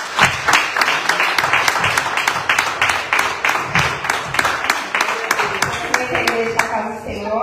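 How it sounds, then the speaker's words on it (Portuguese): A church congregation gives a strong round of applause to welcome a woman preacher, with sharp, rhythmic clapping in an even beat, loud and close, and some voices rising under it near the end. "Vamos receber a serva do Senhor com uma salva de palmas bem forte"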